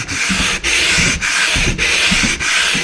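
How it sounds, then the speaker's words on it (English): Sandpaper rubbed by hand across a fridge surface in steady left-and-right strokes, five close, loud scraping passes with brief pauses between them. "as I move the sandpaper left and right"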